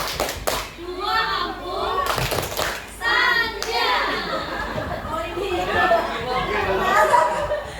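An audience of teachers claps along to a rhythmic clap chant at a positive-culture training session, with a few sharp bursts of hand claps at the start and a leader chanting over a crowd murmur.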